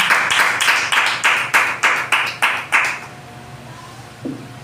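Church congregation applauding: a run of about ten loud, evenly spaced clap bursts, each ringing in the hall, that stops abruptly and leaves a quiet room.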